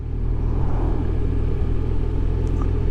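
A BMW R1200RT motorcycle engine rumbles steadily while riding on the road, with a loud, continuous low drone and wind noise and no talk.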